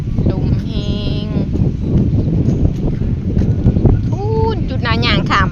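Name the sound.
dry wind blowing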